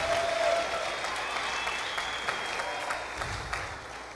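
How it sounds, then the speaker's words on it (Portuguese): Church congregation claps together in a soft, distant-sounding round of applause, a steady patter of many hands filling the hall for a few seconds. "Dê para Jesus uma forte salva de palmas."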